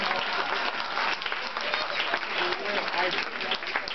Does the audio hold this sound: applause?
yes